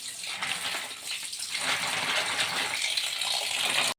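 Tap water gushes steadily through a filter holding soaked grain as it is rinsed a fourth time at home, a continuous close splashing flow with no talk, stopping abruptly at the end.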